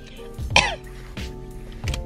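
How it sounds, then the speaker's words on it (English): A person coughs and clears their throat several times in short, rough bursts, close to the listener. "Probably shouldn't be coughing like that."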